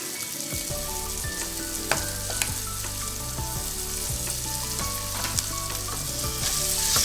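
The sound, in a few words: mixing mashed potato with turmeric in a pan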